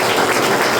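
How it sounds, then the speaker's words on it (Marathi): A congregation at a Christian worship service claps on request, a loud, dense, brief burst of applause under a second long. "टाळ्या वाजव."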